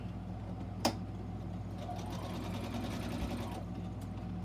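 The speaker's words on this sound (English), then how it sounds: "If you want to reinforce your corners, do a back stitch." A sewing machine back stitches the corners of a box bag, a steady mechanical whir running throughout with a sharp click near the start, while a faint voice sits in the background.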